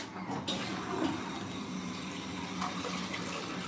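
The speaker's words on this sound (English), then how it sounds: "It's a good flush." A toilet in a Kengo Kuma–designed public restroom in Shibuya, Tokyo flushes with a steady, close rush of water that runs throughout without pause.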